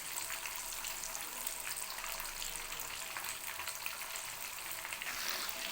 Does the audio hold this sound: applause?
no